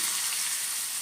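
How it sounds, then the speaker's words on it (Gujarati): Chilies, asafoetida and turmeric hitting hot oil in a pan after mustard seeds have popped, producing a loud, dense, continuous sizzle heard close up. "થોડીક હિંગ, થોડીક હળદર, અને પછી નાખી દઈએ મરચાં."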